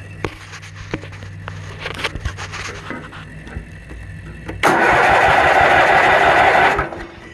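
A Kohler Magnum 20 small engine on its first start, with faint handling noises and clicks before it suddenly catches and roars loudly and steadily for about two seconds, then cuts off.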